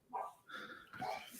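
Drunken chaos at a podcast meetup: a dog gives three quick, faint barks or yips in succession, close but quiet.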